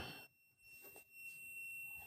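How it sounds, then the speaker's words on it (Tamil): A steady high-pitched electronic beep from a buzzer triggered by a short circuit drones on continuously, fairly faint, with a little low background noise beneath it. "பீப் சவுண்ட் வருது, பஸ் வருதுங்களா?"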